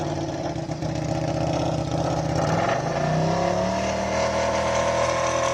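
KTM-powered race car climbing a hill at a Cape Town speed event, its engine revving steadily and loudly with a rising pitch as it accelerates away, no voices over it.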